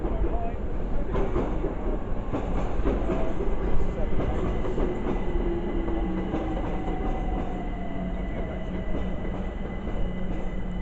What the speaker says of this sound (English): coming in is a London Overground by 378 from London Euston to Watford Junction